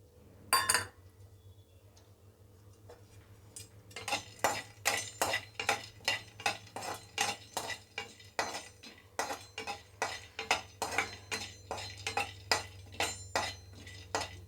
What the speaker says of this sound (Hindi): अब बादाम भून लेते हैं